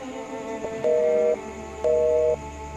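A telephone being dialed: two short, steady electronic keypad tones spaced about a second apart, fairly quiet against a low background hum.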